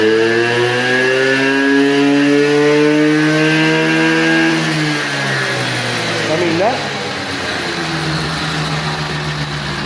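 A 50cc Blue Dino small engine revving high and loud, close by, its pitch holding at a screaming whine before dropping back toward a low idle, while someone speaks briefly over it.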